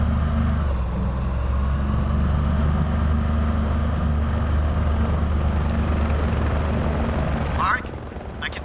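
A helicopter in the video game INFRA, a loud, close, steady rotor thrum and engine drone that holds for several seconds, then drops away abruptly near the end.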